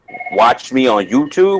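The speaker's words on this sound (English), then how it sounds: "sorry for the phone call" A telephone rings with steady high tones from the start, continuing faintly beneath a man's ongoing speech during a casual talk.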